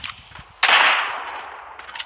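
A single loud gunshot cracks in a video game, with a bright burst that rings and decays over about a second, preceded and followed by faint clicks and background noise.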